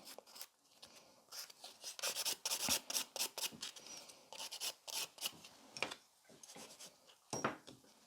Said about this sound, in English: I would keep filing it until it is gone